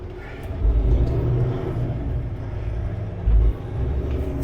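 A semi truck pulls away from a shop after dropping its light trailer, with a steady low engine rumble that swells twice as it gets moving, no voices over it.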